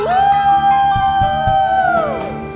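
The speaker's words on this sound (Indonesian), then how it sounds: "Kasih tepuk tangan dulu buat Sang Raja. Mana bersoraknya?" A church congregation at a Christmas worship service cheers, with a loud sustained whooping voice standing out over scattered crowd noise that fades toward the end.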